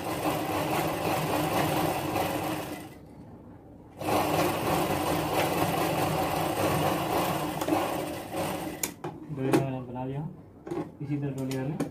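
A sewing machine stitching fabric for a baby girl's kurti, running in a steady mechanical whir that pauses briefly and then resumes, with a person talking near the end.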